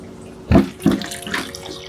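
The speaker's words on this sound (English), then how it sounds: "while I am watering the GreenStalk this morning" Water splashes into a GreenStalk vertical planter of strawberries and herbs during a morning watering, two short close gushes followed by softer trickling.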